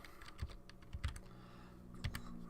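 Light computer keyboard typing in a few short bursts, soft key clicks with pauses between them, close and fairly quiet.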